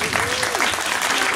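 Warm audience applause at a children's magic championship show with a clown performer, steady massed clapping from a crowd of kids and adults, with a faint voice sliding briefly underneath.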